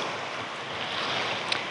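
Rough Black Sea surf at Chernomorskoye, Crimea, washes ashore in a steady broadband wash, fairly faint and continuous with wind noise across the microphone and no voices.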